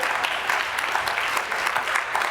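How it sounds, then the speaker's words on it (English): Brief, steady audience applause for Gompers Middle School students at a Long Beach school district event, a continuous patter of many hands clapping. "Please give them a round of applause."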